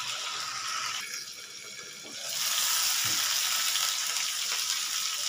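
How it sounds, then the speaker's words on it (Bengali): Fish frying in a pan after being flipped, a steady close hiss and sizzle that swells louder partway through, with a faint clink of a utensil. "এবার এটাকে উল্টে দিতে হবে সেম প্রসেস আমি আরও একটা পাশ ভেজে নেব"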